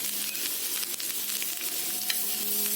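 Butter, onion, chili powder and coriander leaves sauté for pav bhaji in a hot pan, giving a continuous loud sizzle with light stirring, close and without speech.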